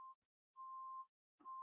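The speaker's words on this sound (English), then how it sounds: "The boom and beep. The dreaded beep." Electronic beep tones, three steady pure pitches: a short one, a longer sustained one, then another starting near the end, separated by silence and faint in level.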